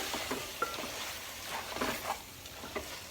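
Prawn biryani rice being mixed with mint in a pot: repeated close scraping and stirring strokes with light sizzling and small utensil knocks, no speech.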